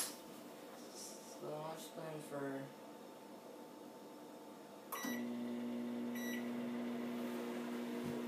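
A microwave oven heats a Lean Cuisine Traditional Crust Deluxe Pizza, humming steadily under a few quiet spoken words, then the hum steps up louder as the door shuts and the oven starts, with a couple of brief electronic beeps.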